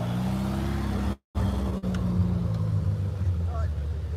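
A modified Renault Sport 172 rally car, stripped down from its original build, passes at a classic and Targa rally, giving a low steady engine drone with a brief dropout partway through, while people talk over it.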